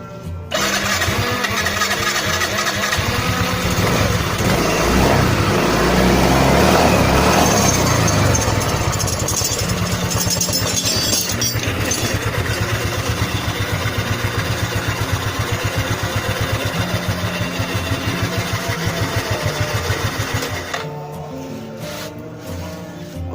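A Yamaha Mio M3 125 scooter engine, just reassembled after a CVT roller repair, runs loud and steady at a close, rattly idle for about twenty seconds before dropping off near the end.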